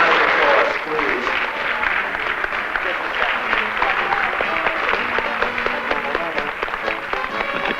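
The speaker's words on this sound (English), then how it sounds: "Let's give all of the contestants a very big round of applause, please" A studio audience gives the contestants a big round of applause, a loud, dense roar of clapping that runs the whole way through with voices mixed in.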